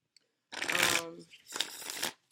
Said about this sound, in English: I'm going to shuffle a couple of times.